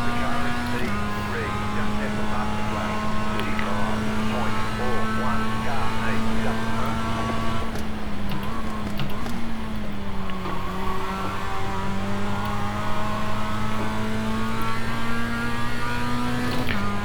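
A Mazda race car in iRacing on the Charlotte Speedway Roval, its engine droning steadily at close range for the whole stretch, pitch holding high with small dips and shifts around braking and corners.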